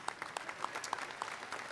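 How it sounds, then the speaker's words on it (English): Audience applause at the Ohio State Fair Sale of Champions livestock auction: a steady patter of many hands clapping at a moderate distance, continuous and even throughout with no talk over it. "Let's give them another big round of applause."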